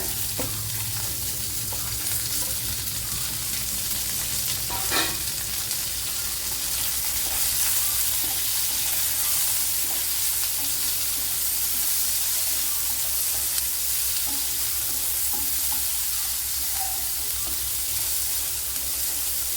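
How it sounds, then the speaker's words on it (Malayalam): Chopped small shallots frying in hot oil in a pan while cooking a Kerala-style ash gourd thoran, a loud, steady sizzle with occasional crackles and stirring, continuous and close, with no talking. "ഒരു 15 കൊച്ചുള്ളി ഇതുപോലെ അരിഞ്ഞു വെച്ചിട്ടുണ്ട്, അതിട്ട് കൊടുക്കുക."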